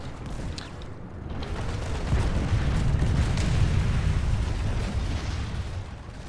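Rocket launcher fire and explosions in a competitive match, a sustained rumbling roar of blasts and booms building to a loud, steady wash with occasional sharper pops.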